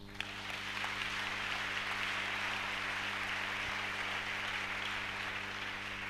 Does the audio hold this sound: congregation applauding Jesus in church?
yes